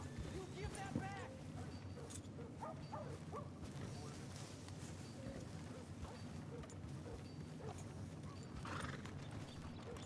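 Horse hooves clip-clop in Red Dead Redemption 2, a rhythmic trotting under faint ambient game sound, with an occasional whinny and quiet background voices.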